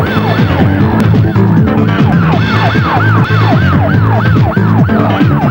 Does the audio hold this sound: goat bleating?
no